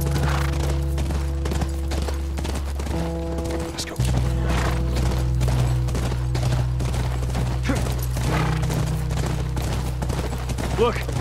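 A horse's hooves clip-clop in the video game The Last of Us, a steady run of hoofbeats beneath sustained musical tones and ambient game sound, with no talking.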